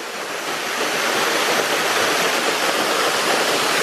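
Water pours from a stream or waterfall in a loud, dense, unbroken rushing roar that stays steady from start to finish, with no voices over it.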